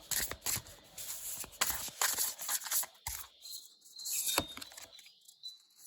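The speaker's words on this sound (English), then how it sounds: "I'm going to do my best to shuffle on camera." A deck of oracle cards, the Sacred Cycles Oracle, is shuffled by hand. It gives crisp, rapid papery riffles and taps in irregular bursts, close and fairly quiet, with short pauses between.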